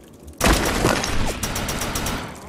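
Weapon fire in the third-person shooter Defiance bursts in abruptly, a loud rapid volley of cracking shots with sharp repeated reports over a dense noisy mix.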